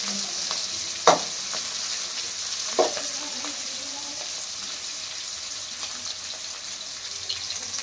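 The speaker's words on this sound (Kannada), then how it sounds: "ಈಗ ಈರುಳ್ಳಿ ಫ್ರೈ ಮಾಡ್ಕೊಳ್ತೀನಿ" Onions frying in a pan: a steady, fairly quiet sizzle with two distinct spatula scrapes early on and faint stirring afterward, no voices.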